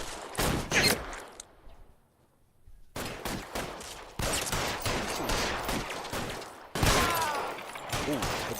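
Rapid bursts of gunfire during an L.A. Noire shootout, loud and close, come in dense volleys separated by a brief lull. The shots ring out with no talk over them.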